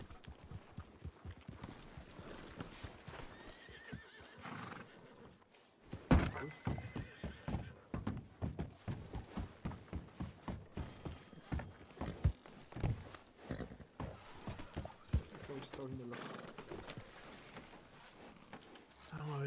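Horse hooves clip-clopping in a steady walking rhythm, with a whinny, from the Western game Red Dead Redemption 2, heard close and fairly faint under someone talking.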